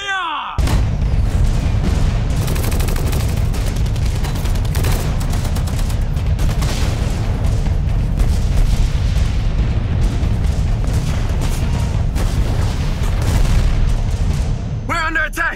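A war film trailer erupts into loud, continuous gunfire and booming explosions that pound almost without pause for the whole stretch, with shouted voices mixed in.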